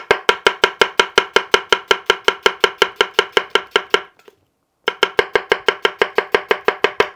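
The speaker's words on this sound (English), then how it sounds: "For something like an onion or a cucumber that's decent size but not very firm, you can use the middle of the bunka." A bunka knife with a fine, roughly 10-degree edge chops onion or cucumber with the middle of the blade, fast even thuds on a board, a brief pause, then the same steady rapid chopping resumes, close and loud.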